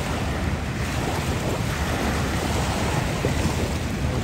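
Heavy water rushing down at Hume Dam, a steady broadband roar that stays loud and unbroken throughout with wind buffeting the microphone, no voices.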